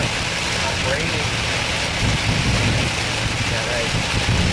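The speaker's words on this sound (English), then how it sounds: "Oh, it's raining." Heavy rain hisses steadily against a moving vehicle while driving, forming a dense, loud wash of noise with a low rumble underneath and no clear breaks.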